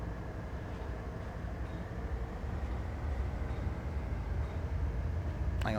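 A diesel locomotive at Cajon Pass in Train Sim World 3 drones with a low, steady engine rumble that gradually builds in loudness as the throttle comes up, alone with no voices.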